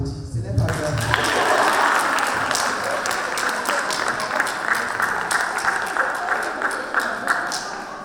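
An audience applauds steadily, with dense clapping that starts just under a second in and carries at an even, fairly loud level, with some speech mixed in.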